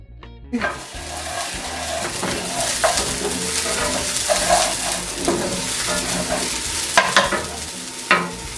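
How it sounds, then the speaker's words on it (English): Eggs and onions scrambled with a little sour cream in a hot pan, sizzling loudly and steadily under repeated stirring and scraping strokes, no voices. "I'm going to scramble it with a little bit of the sour cream"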